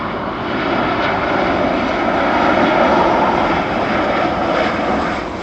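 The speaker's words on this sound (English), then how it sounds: "Ryanair 737." Ryanair Boeing 737 airliner at Dublin Airport, a loud steady jet engine roar sustained throughout, swelling slightly in the middle as the aircraft passes, with no talking.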